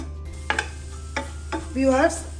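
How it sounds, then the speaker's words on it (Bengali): Nuts and mawa frying in a pan for a carrot malai chop: a few close spatula scrapes and stirs over a soft sizzle, ending in a longer scraping stir. "বাদাম মাওয়াগুলো দিয়ে একটু ভালো মতো করে 1 মিনিট ভাজা ভাজা করলাম"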